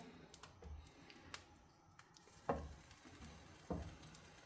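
Sandwiches sizzling faintly in a buttered grill pan, a low steady crackle with a few sharper taps and clicks of handling, quiet and without talk.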